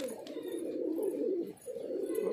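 Pigeons coo softly and continuously in a loft housing about fifty birds. The low, throaty murmur runs steadily with no talking over it.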